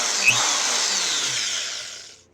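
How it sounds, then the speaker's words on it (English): A small, cheap Harbor Freight power drill, used while fixing a Buzz Lightyear toy, whirs in a high, steady whine for about two seconds, then spins down and fades out. "this and the little drill made quick work of those pains in the ass"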